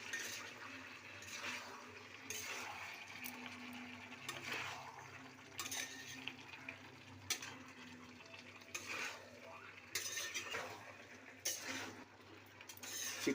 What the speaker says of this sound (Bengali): চিকেনটা একটু নাড়াচাড়া করে নিচ্ছি